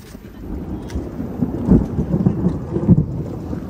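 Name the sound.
loud thunder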